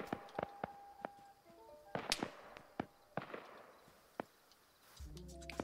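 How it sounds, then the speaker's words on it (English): High-explosive rounds land in the Arma 3 video game as a scatter of sharp, distant cracks and thumps at irregular intervals, quiet overall, with a brief tonal beeping near the end. "they're using frickin' HE rounds. That is some nasty fire."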